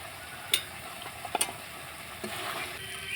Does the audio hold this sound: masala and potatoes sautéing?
yes